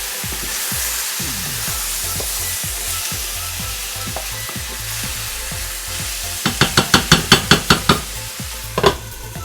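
Squash frying in a hot pan, a steady sizzle with rhythmic scraping stirs throughout, then a quick run of sharper clacks of the utensil near the end, close and alone without talk.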